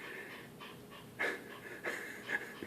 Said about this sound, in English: Listen to his breathing.